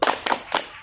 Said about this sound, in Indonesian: Mari kita beri tepuk salut untuk Kakak Angel.